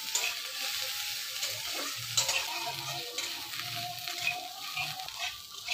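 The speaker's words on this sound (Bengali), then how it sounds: "বাঁধাকপির সাথে লঙ্কাটা ভেজে নিই।" Green chillies fry with cabbage in a wok, a continuous sizzle with repeated scraping stirs of a spatula, close and alone.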